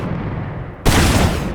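A rocket explosion in the VR shooter H3VR, a sudden loud broadband boom bursting in midway over a dense rumbling background and ringing out to the end.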